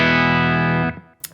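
Ibanez electric guitar through a Wampler Ratsbane and a Synergy B-Man Bassman-style module, one gritty, slightly broken-up chord ringing loud and steady, then cut off abruptly, followed by a faint string squeak.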